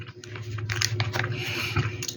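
Crunchy pistachio Dubai chocolate being bitten and chewed up close, a quick run of crisp crackling bites and chews over a quiet background hum.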